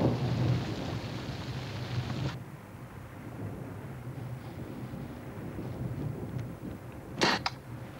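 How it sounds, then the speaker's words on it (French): Heavy rain pours steadily, loud and dense, then drops to a softer, lighter patter, with a low rumble beneath it and a couple of sharp knocks near the end. "Ah, si seulement cette pluie pouvait s'arrêter."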